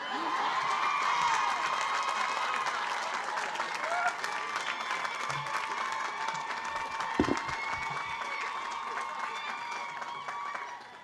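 A large audience at a Women's History Month event at Wellesley claps and cheers, a loud, sustained wash of applause with scattered voices and whoops that carries on without a break.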